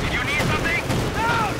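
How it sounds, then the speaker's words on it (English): Light machine gun fire crackles in the World War II strategy game Company of Heroes 2, with rapid bursts of gunfire over dense battle noise, all in one short, continuous stretch. "these consoles getting absolutely pummeled with light machine gun fire and auto cannon"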